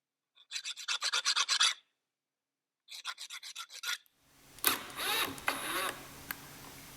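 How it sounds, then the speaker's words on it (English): A metal file rasps along the cut edges of a six-inch length of threaded all-thread rod in quick, even strokes, two close bursts separated by a pause, followed by louder workshop clatter and ringing. "I file down some of these edges, try to get flat."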